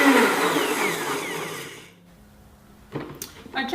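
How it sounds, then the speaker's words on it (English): A BlendTec blender on its smoothie setting whirs loudly through a kale green smoothie, its motor roar winding down and stopping about halfway, followed by near silence and a few close clattering handling sounds. "I'm just going to select smoothie on my BlendTech blender"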